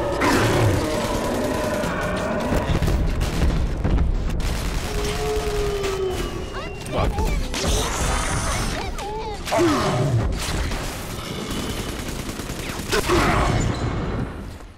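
Rocket launcher explosions and gunfire from the video game Bioshock 2, with repeated booms, rapid shots, whooshes and roars crowding one another through a chaotic fight.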